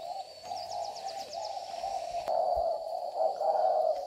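A caged spotted dove coos in low, steady hoots that repeat through the stretch, fairly close and clear, with a brief higher chirping trill near the start.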